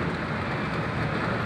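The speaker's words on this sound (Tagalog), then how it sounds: "Ulan pa rin, maulan dito sa Japan ngayon." Steady rain falls in Japan as a storm approaches, a dense continuous hiss of drops on surfaces, with a low rumble beneath and no talk.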